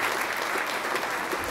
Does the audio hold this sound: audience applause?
yes